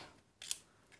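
Scissors snip through scrapbooking stickers at a craft table, a single crisp cut near the middle of a quiet moment with a faint second snip at the end.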